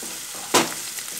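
Green chilies and garlic sautéing in a pan for potato masala: a brief, steady sizzle with a sharp burst of frying hiss midway as ingredients are stirred.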